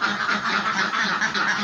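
Ducks of the Bayah breed quack continuously in a dry pen, a close, busy chorus of overlapping nasal calls.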